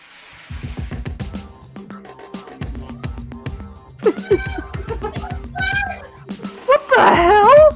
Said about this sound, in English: Yes, JV, the cat is indeed meowing.